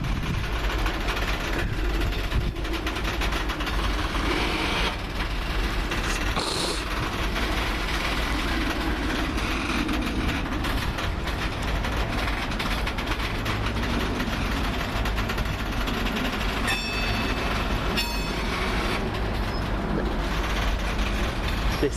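A train sits with its engine idling in a station, a steady low diesel rumble with broadband noise throughout and a few faint high tones, no clear motion pickup evident.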